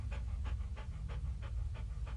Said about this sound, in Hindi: फिर ब्रूनो के हांफने की आवाज आती।